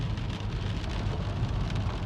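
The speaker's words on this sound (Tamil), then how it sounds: "கொட்டுன்னு கொட்டுது மழை." Heavy rain pours steadily in Canada, a dense continuous hiss of drops drumming on surfaces, loud and even throughout with no voices.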